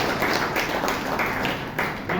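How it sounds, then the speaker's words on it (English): A Toastmasters meeting audience in Bangalore gives steady, dense applause, a continuous wash of many hands clapping together at close range for a couple of seconds. "Please give him a huge round of applause."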